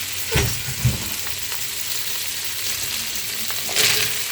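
Squash tossed into a pan of cooked snails sizzles steadily while being stirred, with a few scraping thumps of the spoon near the start and a brighter burst of frying toward the end.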